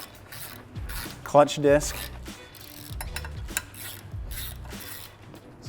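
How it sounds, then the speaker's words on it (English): Ratchet clicking in short bursts while clutch pressure plate bolts are tightened evenly around the plate, close and moderately loud, with someone talking over and between the ratcheting. "Now I'm just gonna go around and tighten up these bolts all evenly"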